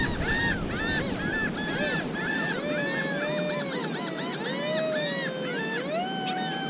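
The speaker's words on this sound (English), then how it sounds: "Hear them birds laughing at me?" Geese honk and call repeatedly nearby on a beach, a noisy overlapping chorus of cackling squawks with no pauses.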